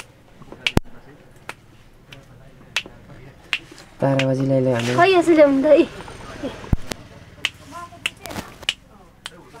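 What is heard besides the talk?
finger snapping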